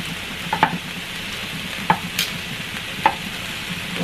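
Garlic and chiles sizzle in a pan with a steady, moderately loud frying hiss, broken by a few sharp clicks and scrapes of stirring.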